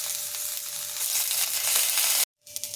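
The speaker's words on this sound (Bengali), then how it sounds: "করলাগুলো একটু ভেজে নেব।" Bitter gourd frying in a kadai gives a steady, close sizzle that cuts off abruptly for a moment, then resumes more quietly.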